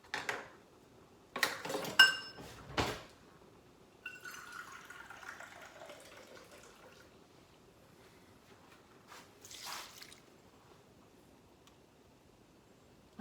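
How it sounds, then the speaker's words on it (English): A metal lid clanks onto a cooking pot of taro and cassava being steamed with water, a few sharp clattering knocks near the start followed by soft simmering hiss and a faint later clink, no talk. "I'm gonna get a lid. I'm gonna cover it up."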